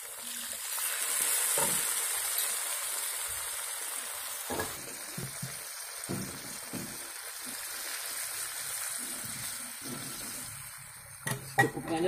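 Water poured into a hot pan while cooking seblak gives a steady, close sizzle with bubbling that runs throughout, broken by a few clinks and stirring knocks near the end.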